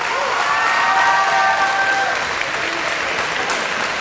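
A gym crowd at a high school volleyball match applauds loudly and continuously for the Athens Bulldog seniors, with a few whistles and cheers over the sustained clapping.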